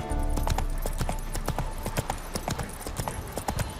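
Roach the horse trotting in The Witcher 3, a quick, steady clip-clop of hooves on hard ground, close and crisp, with no other sound alongside.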